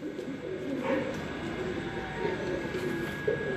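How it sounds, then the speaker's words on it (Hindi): Cupboard-kept pigeons coo softly, with a few brief calls over a steady murmur of background noise. "ये भी अलमारी वाले कबूतर हैं"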